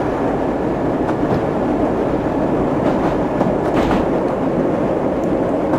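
A video game 1973 Piccadilly line stock London Underground train rumbles along the Bakerloo line route steadily with a dense, continuous roar and faint rhythmic clatter of wheels, loud and close, no voices.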